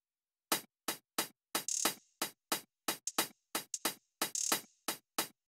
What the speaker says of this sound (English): Then I added a second hat which sounds more trappy, more modern.